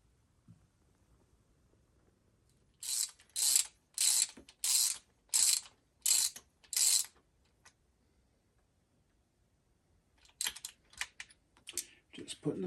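Ratchet clicking in quick bursts while spark plugs go back into a 1966 Jaguar E-Type OTS Roadster engine, about six distinct close ratcheting runs in a steady rhythm, then a pause and a few fainter scattered clicks and handling noises.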